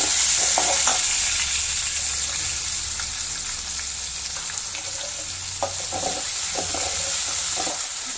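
Cumin, cinnamon stick and bay leaf sautéing in a pan, a steady close sizzle with scraping stirs and occasional clicks of a spoon against the pan, no voices.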